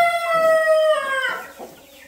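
A rooster crows up close, loud and clear in a barn coop, its drawn-out call falling away at the end with a few soft clucks after it.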